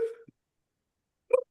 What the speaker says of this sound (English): You know what the hiccups are?